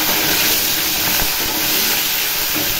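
A fish head frying in hot oil in a wok makes a loud, dense, continuous hiss that holds steady from start to end, with no talking.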